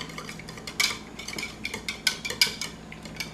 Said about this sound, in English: I'm just going to do it by hand. Whisk that a bit.